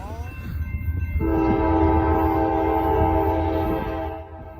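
A CSX freight train passes close by, blowing a loud, sustained multi-tone horn over the rumble of the rail cars.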